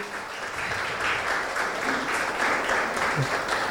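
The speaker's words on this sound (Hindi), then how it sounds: "सो तालियां बजा सकते हैं।" A church congregation claps for Sunday school and Bible college teachers, a steady, moderately distant wash of applause from many hands lasting the whole stretch, fairly soft in level.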